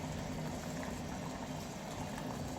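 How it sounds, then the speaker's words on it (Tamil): Coconut gravy bubbling in a clay pot with the gas off, a soft continuous simmer of low burbling and faint hiss, steady and quiet. "நான் கேஸ் ஆஃப் பண்ணதுக்கப்புறமா 5 நிமிஷம் இப்படி அழகாக கொதிச்சிட்டே இருக்கும்"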